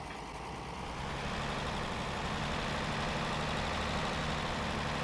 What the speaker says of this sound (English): this tractor here will technically be our workhorse, our power tractor